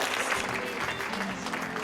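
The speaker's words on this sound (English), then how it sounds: "Please, one more round of applause to every single one of our candidates." Audience applause for science candidates at an awards event, a soft, steady patter of clapping from a modest crowd, fairly distant and with a faint hum beneath.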